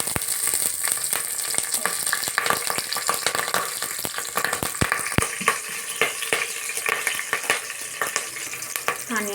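A bay leaf, cardamom pods, cloves, a small piece of cinnamon and slit green chillies fry in hot oil, giving a steady close sizzle with frequent sharp crackles and pops and no talking.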